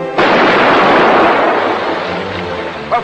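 A ship's cannon fires in a 1940s sailing-era sea drama, a single loud, close boom bursting out and rolling into a long roaring decay that fades over several seconds.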